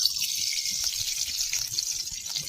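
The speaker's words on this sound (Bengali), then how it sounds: "কড়াতে সাদা তেল দিয়ে দিচ্ছি" White cooking oil pours steadily into a kadai (wok) for frying chicken, a continuous close liquid stream with a soft trickle and no voices.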